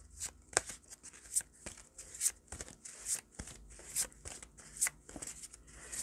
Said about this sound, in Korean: 좋은 카드도 한번 좀 뽑아볼게요